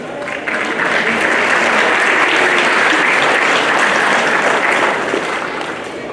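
A crowd at the Expo Feria 2019 fair in Amatepec breaks into loud, sustained applause, swelling quickly and holding steady before fading slightly at the end.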